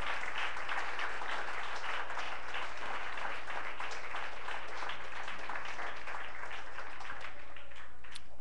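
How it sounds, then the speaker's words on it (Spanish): A church congregation applauds during a worship testimony, a dense, continuous wash of many hands clapping at a steady, fairly distant level with little talk. "Denle un aplauso a Jesucristo"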